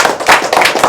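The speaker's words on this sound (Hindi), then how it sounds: "सब तालियों से वेलकम कीजिए।" An audience claps together to welcome a speaker at a talk, a dense burst of applause with uneven surges across one short second.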